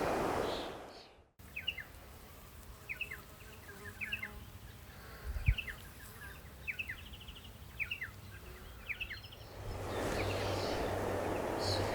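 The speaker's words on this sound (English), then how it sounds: "So there's a few blackbirds around." Several short chirping blackbird calls scattered over a steady outdoor background, fairly distant, with a brief low thump partway through.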